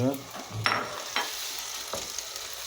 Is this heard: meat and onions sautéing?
yes